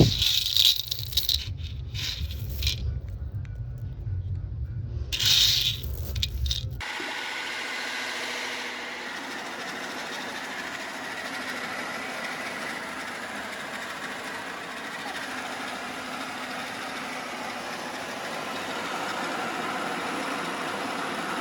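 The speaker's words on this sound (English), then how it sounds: "So this is our maize. We are going to mill it." A grinding mill runs steadily, milling maize into flour for akple, a continuous rattling roar that settles in after a few seconds of scattered knocks and clatter.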